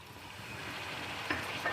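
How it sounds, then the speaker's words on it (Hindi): Masala for beef yakhni paya fries in a pan, giving a soft, steady sizzle with a couple of light stirring scrapes, faint and close, with no talk. "फिर इसको हम पानी खुश्क होने तक अच्छे से भूनेंगे"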